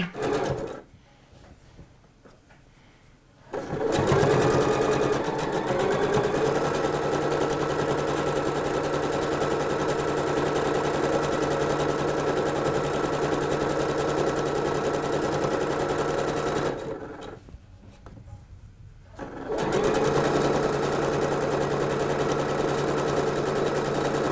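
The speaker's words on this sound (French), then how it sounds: "Une fois ici qu'on a piqué à la machine" A sewing machine runs steadily while stitching a rolled hem 2 mm from a folded 1 cm edge, its fast even whir broken by two short stops where it falls quiet.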